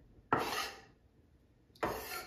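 Knife scraping and rocking through a pile of chopped ramps on a wooden cutting board, two separate raspy strokes with a quiet pause between, close and alone.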